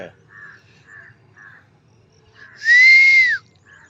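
A person gives a single sustained whistle lasting under a second, loud and close, meant to shoo a stray cow outdoors in the morning. Quieter bird calls chirp briefly before and after it.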